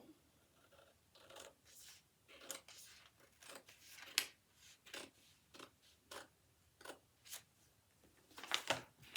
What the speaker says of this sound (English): you cut through that line, but only to where the seam allowance is